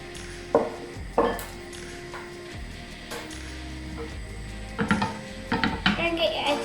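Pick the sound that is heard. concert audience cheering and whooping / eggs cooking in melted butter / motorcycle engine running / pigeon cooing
eggs cooking in melted butter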